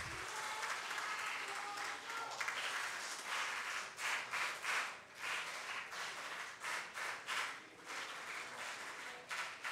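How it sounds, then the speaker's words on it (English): A crowd of volunteers and participants applauds after a panel discussion, the clapping fairly faint and distant, swelling and dipping in uneven bursts. "A wide round of applause to all the volunteers and participants who made today's talk a grand success."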